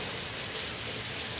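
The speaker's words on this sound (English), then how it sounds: "Barely made it in here before it started pouring." Heavy rain pouring down outside, a dense, even hiss of falling water that holds steady and loud for the whole moment.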